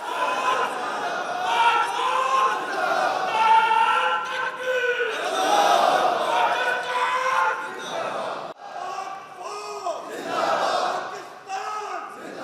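A crowd of farmers at a convention chants Nara-e-Takbeer and Pakistan Zindabad slogans in rising and falling waves of massed voices, loud and close.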